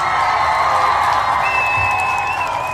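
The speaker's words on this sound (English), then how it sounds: "I want to give all of the Ujamaa babies a round of applause" Crowd applause mixed with cheering and whoops, loud and continuous for a few seconds, with a high sustained whistle-like tone over the noisy clapping.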